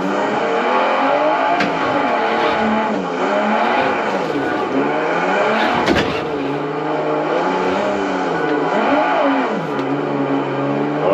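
A car engine in the driving simulator BeamNG revs and climbs through gears continuously, loud and close, with rising and falling pitch sweeps and a brief skid or impact near the middle, no talking.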